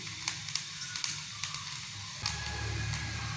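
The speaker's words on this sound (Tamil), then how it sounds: "இது இப்படி வறுத்துட்டு இந்த பெருஞ்சீரகம் இந்த போடுறோம்." Fennel seeds roast in a hot pan for a vegetable chicken curry, giving a steady close sizzling hiss dotted with sharp little pops and crackles, and the tone shifts partway through.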